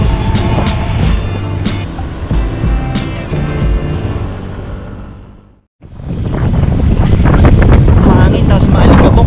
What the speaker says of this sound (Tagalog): Hangin tapos maalikabok